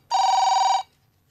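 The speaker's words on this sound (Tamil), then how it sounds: "அண்ணே ஃபோன் அடிக்குதுண்ணே." A single electronic telephone ring, a steady buzzing trill that lasts under a second, close and clear, then quiet, with no voices.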